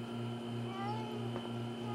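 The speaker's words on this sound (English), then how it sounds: "Now, let's get your kitty down from the tree." A cartoon cat meows from up in a tree in an animated children's episode, a few drawn-out cries heard over a steady background hum and music.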